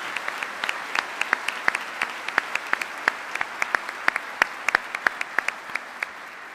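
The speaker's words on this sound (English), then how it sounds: "How about we all give her a round of applause?" Lecture-hall audience applauding, a soft continuous patter of many hands with sharp, louder individual claps standing out close by in a fairly regular rhythm across the whole stretch.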